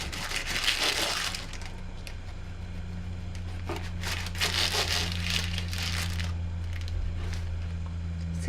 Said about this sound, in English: So if I cut it into, I'll cut the edges.